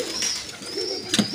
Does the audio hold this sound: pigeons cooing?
yes